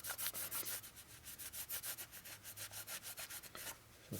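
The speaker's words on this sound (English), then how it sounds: "So just rub all this off and start over." Rubbing old softened gasket sealer off a part of a 1941 Harley-Davidson WLD 45 flathead engine, heard as a quick, steady series of dry scrubbing strokes close up, with no talk.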